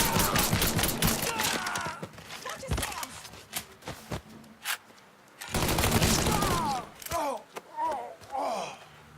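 Bursts of gunfire in Mafia 3 crack out in rapid clusters, loud and close, separated by short pauses, with gasps and shouting voices mixed in among the shots.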